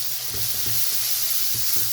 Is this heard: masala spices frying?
yes